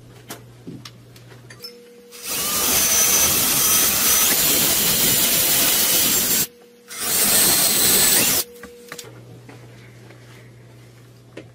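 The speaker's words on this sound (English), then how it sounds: "Now, using a 7/32 bit, I'll drill the pilot holes." A power drill with a 7/32 bit bores pilot holes for mounting a wall pull-up bar, two loud sustained whirring bursts of a few seconds each split by a short pause, with quiet handling noise before and after.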